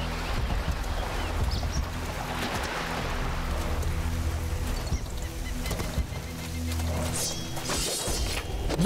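Rain falls in the video game Sacred 2: Fallen Angel on Xbox, a steady hiss of drops with low tonal game sounds droning beneath it.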